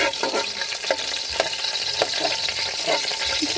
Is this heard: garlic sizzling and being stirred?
yes